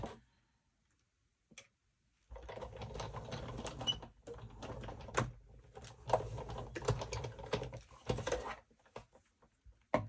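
A die-cutting machine runs card and dies through its rollers, making a steady rattling, clicking mechanical grind that lasts several seconds after a short pause, close and fairly loud with no talking.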